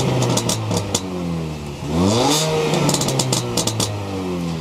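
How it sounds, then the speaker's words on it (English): A Mini's engine, tuned from the factory for pops and burbles, revs up sharply from idle and then drops back, with crackling pops and a burbling exhaust, loud and close. "it has a really unique sound to it that Mini gave a little pop and"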